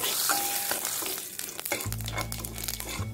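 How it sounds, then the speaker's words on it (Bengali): Whole spices tempering in hot oil for masoor dal after the sugar has been caramelized, a steady crackling sizzle that swells into a loud, dense hiss partway through, with no voices. "এবার ফোড়নটা দিয়ে দিলাম ফ্রাই করে নিচ্ছি"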